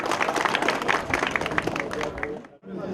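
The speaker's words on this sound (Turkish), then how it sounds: "O güzel alkışlarınızdan Fevzi Bilek Efendi'ye rica ediyoruz." An audience at the opening of a cemevi in Çayırlı, Erzincan, claps in dense, lively applause that fills the room and then drops away abruptly near the end.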